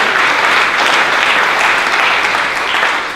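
An audience claps at the opening night of the 2017 Middlebury New Filmmakers Festival, sustained full-room applause that stays strong throughout and eases slightly toward the end.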